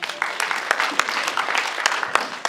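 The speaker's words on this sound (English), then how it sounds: "Clap for Jeremy." A church congregation claps together at a Sunday service, a dense, steady patter of many hands sustained throughout at close range, with a few sharper individual claps standing out.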